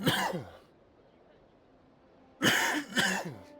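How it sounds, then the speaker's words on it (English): A person coughs and clears their throat, one rough burst, a pause, then two more harsh coughs close to the microphone. "I was done coughing."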